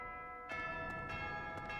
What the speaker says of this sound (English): the bell rings when you've exhausted all your activity points